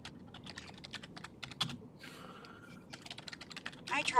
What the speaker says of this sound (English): Are you typing something furiously